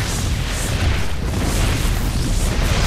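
Banelings bursting against Protoss photon cannons in StarCraft, a dense, continuous rumble of overlapping booms and pops with heavy low end, steady and loud throughout with no distinct gaps.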